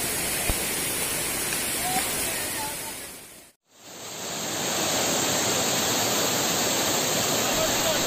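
Malora waterfall roars with forceful rushing water, a dense steady wash that cuts out briefly in the middle and then returns just as loud.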